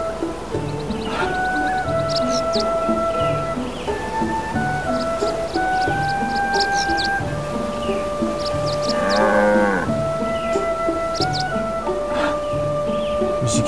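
Cartoonish cow moos ring out over bright chiming race music in a cow race from the video game Final Fantasy Crystal Chronicles, several moos in sequence with a warbling tone near the end.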